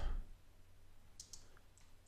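A few faint keyboard keystrokes, soft clicks of typing text into a graphics program, heard near 1.2 to 1.8 seconds over a low background hum with no talking.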